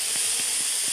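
A vape rebuildable tank atomizer with its airflow wide open hisses steadily as the coil fires, with a few soft pulses of crackle and sizzle close to the microphone.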